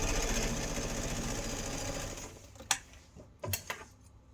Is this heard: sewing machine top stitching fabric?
yes